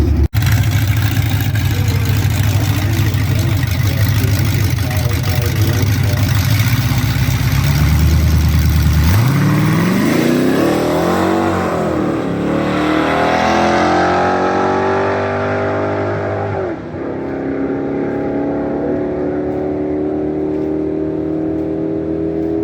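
An LT1 car fitted with a CC503 cam and a 150-shot nitrous kit idles with a lumpy rumble, then launches into a loud, rising roar that sweeps up through the gears before easing off and fading.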